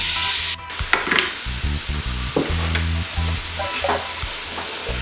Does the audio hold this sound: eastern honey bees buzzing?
no